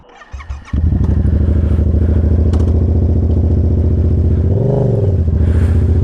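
A motorcycle's engine catches after a brief clatter, then settles into a loud, steady, close-up drone that stays nearly constant. A short rise and fall in pitch near the end marks a quick change in revs.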